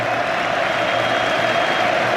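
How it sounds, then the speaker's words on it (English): Thousands of Wolves fans at Molineux stadium rise to applaud an 18-year-old player during a Premier League match, a dense, steady wash of clapping from a large crowd filling the air. "Thousands of Wolves fans rising as one to applaud an 18-year-old who's been sensational for Wolves this afternoon"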